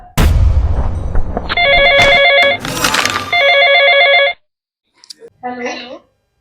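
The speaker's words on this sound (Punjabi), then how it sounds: "ਹੁਣ ਕਿਹਦਾ ਫੋਨ ਆ ਗਿਆ" An electronic phone ringtone plays loudly in repeating bursts, broken by a sharp bang, then fades; brief voices follow near the end.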